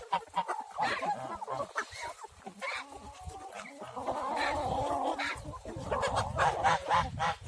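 Geese honk repeatedly at close range on a village farm, with chickens and roosters nearby, the loud nasal calls overlapping in bursts throughout.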